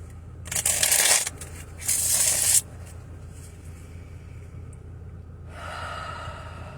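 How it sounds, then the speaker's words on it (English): Two bursts of riffling card-shuffle noise close by, a brief pause between them, then a softer third riffle after a stretch of quiet. "I'm going to do one more shuffle while I'm getting my energy settled."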